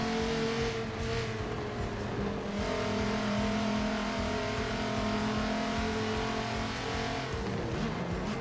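Race car engine in Forza Motorsport 7 at Rio de Janeiro, a loud sustained high-revving drone with shifting pitch and faint tire noise, continuous throughout without speech.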